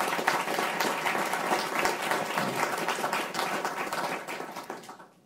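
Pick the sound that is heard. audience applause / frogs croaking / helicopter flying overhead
audience applause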